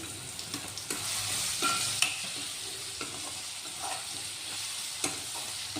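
Soft, steady sizzling of a spice tempering with sugar in a pan, with occasional stirring clicks and scrapes, moderately quiet and close, no talking.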